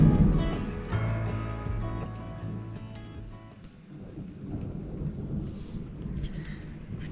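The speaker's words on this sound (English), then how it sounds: "don't know if you can hear the thunder just going crazy outside." Deep rolling thunder rumbles loudly through a thunderstorm, strongest at first and then easing into a lower grumble, with rain hissing steadily in the background.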